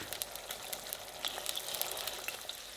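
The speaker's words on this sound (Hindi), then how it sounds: "साथ ही इसमें किशमिश भी डाल देंगे, ये भी फ्राई होके और फूल जाएगी" Raisins sizzle in hot oil or ghee in a pan while zarda, a sweet rice dish, is being made. The crackling is faint and steady, with light pops scattered throughout.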